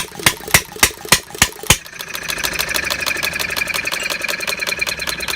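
A half-scale Breisch Olds hit-and-miss gas model engine fires six slow, loud, evenly spaced beats, then picks up speed into a rapid, steady chugging run once the exhaust valve is no longer locked out.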